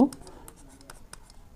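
Marker or chalk strokes put set elements on a board, a series of short scratchy taps spread across the moment, faint and close, with a voice speaking over them.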